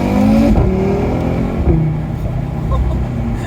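An Audi RS3 engine revs loudly up and down nearby, a deep throaty roar rising and falling in pitch.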